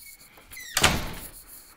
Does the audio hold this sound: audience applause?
no